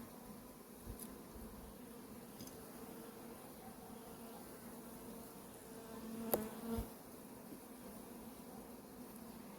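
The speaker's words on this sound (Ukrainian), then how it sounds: "Ось така кількість бджоли на ній." A soft, steady drone of many Buckfast bees buzzing close by on a hive frame, with a few faint knocks and scrapes partway through.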